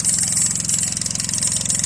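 A 6.5 hp petrol engine drives a pressure hose during a water test, idling close by with a steady, even, pulsing chug that holds constant throughout.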